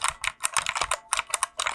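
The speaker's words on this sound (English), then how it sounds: "Keyboard. It's very clicky. Listen to that." Fast typing on a small, very clicky computer keyboard, a quick uneven run of sharp bright key clicks close to the microphone, with no talking over it.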